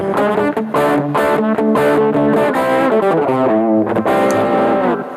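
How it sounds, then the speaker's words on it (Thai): Distorted electric guitar through a Peavey Bandit 112 amplifier, a gritty overdriven riff of sustained chords and notes, loud and continuous with no talking. "มาลองเสียงแตกดูครับ"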